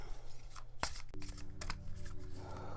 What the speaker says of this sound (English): I'll start shuffling my card